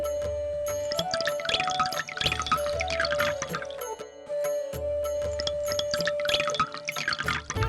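Water poured over the head of a Shiva idol during a worship ritual in an animated comedy, a steady splashing stream over a continuous musical background with thumping bass.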